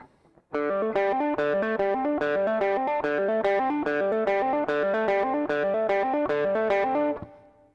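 Electric guitar playing a riff: a driving, distorted, evenly pulsing pattern of repeated notes, loud and close, running several seconds before cutting off, with no voices.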